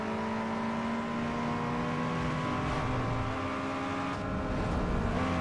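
In Need for Speed Underground 2, a car engine over-revs with a loud, sustained whining drone that climbs steadily in pitch and stays up front without letup.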